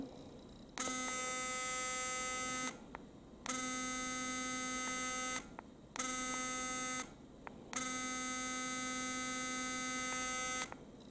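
A Philips Sonicare OptimalClean rechargeable electric toothbrush buzzes with a steady, high-pitched electric drone in four separate bursts of one to three seconds each, with short silent gaps between them, close by and with no voices.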